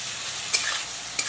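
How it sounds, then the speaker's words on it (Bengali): Chopped onion, tomato and slit green chili fry in a pan over low-to-medium heat with a steady, close hiss of sizzling oil. Two brief stirring scrapes break through the continuous frying. "এখন বেশ কিছুক্ষণ সময় নিয়ে পেঁয়াজ কুচি টমেটো কুচি আর চেরা কাঁচা লঙ্কাটাকে ভাজা ভাজা করে নেব।"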